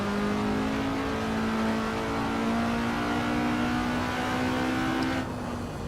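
A race car in the Assetto Corsa video game revs hard under throttle, its engine note a loud, sustained buzzing drone with layered harmonics, held for about five seconds before cutting back abruptly near the end, with no voices.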